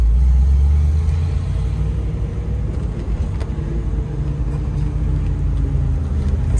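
A 1967 Chevrolet Camaro convertible with a four-speed manual, idling after a cold start with the top down, a loud steady low rumble close by, no talking.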